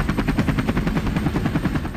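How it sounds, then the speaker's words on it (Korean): K6 machine gun fired from a Lynx helicopter during a naval operation, rapid continuous bursts of thudding shots over helicopter rotor noise, loud and close, no talk. "링스 헬기가 3호 주얼리호의 레이더와 통신 안테나를 향해 K6 기관총을 발사했다"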